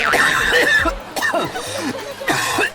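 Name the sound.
cough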